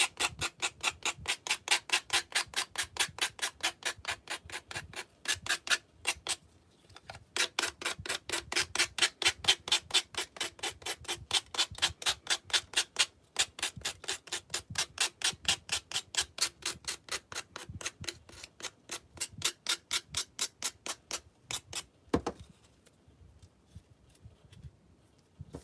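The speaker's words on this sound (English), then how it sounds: "And just go in with our sander and remove." A sander removing excess craft material in quick rhythmic rasping strokes, close and steady for most of the stretch with brief pauses and no talk.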